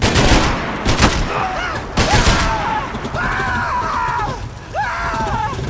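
Gunfire rattles in the Max Payne 3 video game, with several sharp bursts and shots early on, then bullets whizz past in repeated swooping streaks, loud and close throughout.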